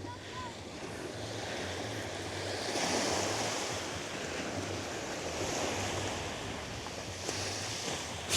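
Ocean surf washes onto a quiet beach at Atlantis in the Bahamas, a steady broadband hiss of breaking waves with light wind buffeting the microphone and a low rumble underneath, continuous for the whole stretch.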